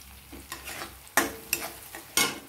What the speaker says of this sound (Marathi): आता लसूण काही जास्त परतायची गरज नाही, थोडं परतायचं